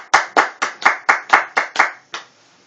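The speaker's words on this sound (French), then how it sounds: "Applaudissez le Seigneur." Nine sharp, evenly spaced hand claps from a church congregation praising the Lord, close and loud, falling into a rhythmic beat before stopping.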